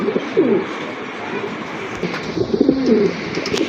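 Pigeons in a breeder's collection coo in soft, low rolling phrases, one burst near the start and another toward the end, close by over a faint background hum.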